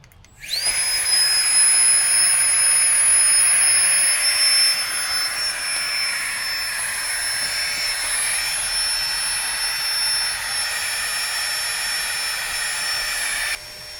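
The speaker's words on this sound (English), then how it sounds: "Also have a Nature Hike Ultralight air pump with the light." A Nature Hike Ultralight electric air pump switches on abruptly and runs as a steady, high-pitched whirring drone while inflating, holding level for over ten seconds before its tone drops slightly near the end.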